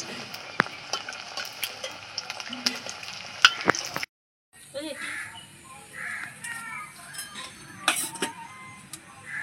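Banana flower fingers frying in oil over low heat make a continuous sizzle, broken by a brief silent gap, with crows cawing and occasional utensil clinks nearby.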